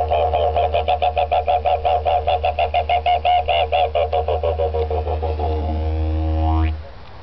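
A person mimics a kookaburra call with their voice, a rapid series of pulsing, rising hoots and cackles that build in a rhythmic chatter for several seconds, then end in a rising whoop over a steady low hum.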